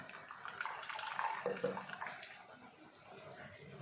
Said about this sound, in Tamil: தேங்காவில் முதல் பாலை நம்ம தனியாக எடுத்து வச்சுக்கலாம்